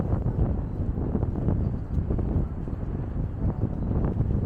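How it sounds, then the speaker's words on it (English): Strong wind buffeting the microphone on a city street, a steady loud low roar and rumble that goes on throughout with no pause. "Very windy day today."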